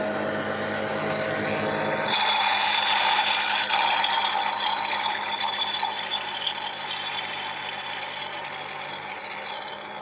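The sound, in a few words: pump sucking leftover oil from Seadoo oil filter chamber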